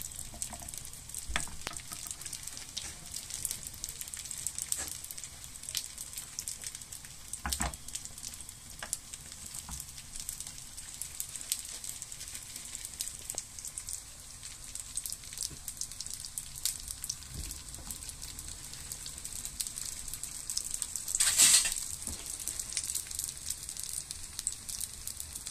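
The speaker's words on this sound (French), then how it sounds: "pour après, faire cuire la viande hachée" Minced meat frying in a pan over low heat, a steady soft sizzle and crackle with scattered pops and occasional stirring clicks, close and fairly quiet.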